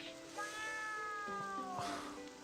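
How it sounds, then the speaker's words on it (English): A cat meows in the horror RPG game Ghost School, one drawn-out, wavering meow that rises and falls, clear and close, with no talking over it. "What's a cat doing here?"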